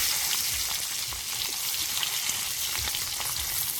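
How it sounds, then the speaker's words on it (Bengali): Capsicum pieces fry in a hot pan while a kadai fish dish is cooked, giving a steady, close sizzle and crackle with no voices over it. "ক্যাপসিকাম গুলো একটু ভেজে নেব"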